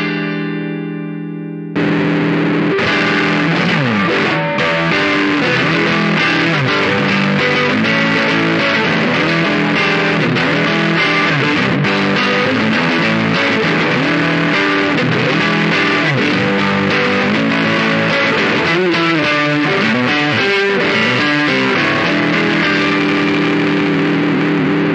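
Electric guitar played through a Boss DS-1 distortion pedal set to maximum distortion, a loud, harsh, buzzy and shrill tone of continuous riffing for about twenty-five seconds, with no talking.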